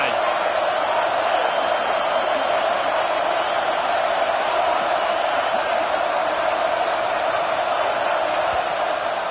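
A packed stadium crowd roars at a college football game between Florida and Arkansas, a continuous loud wash of noise with no break, with an announcer's voice faintly mixed in.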